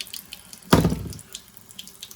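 A single quick splash of water poured out of a measuring cup, loud for a moment then fading into faint drips and quiet.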